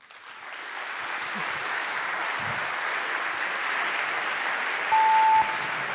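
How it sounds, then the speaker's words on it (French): Applause for finalists at a thesis-presentation contest final, a dense, even roar of many hands clapping that swells in and holds steadily, moderately distant, with no talk over it. "je vais vous demander d'applaudir ces finalistes"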